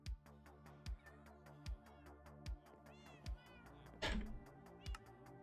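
Cats meowing in the video game Minecraft, with a series of soft, regular thumps and several faint meows layered in, plus a sharper burst near the end; quiet overall.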